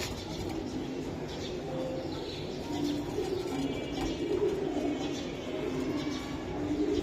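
Pigeons at a market stall selling high-flying Giribaz racing and fancy pigeons coo in a low, continuous murmur over a steady background hum, with no voices standing out.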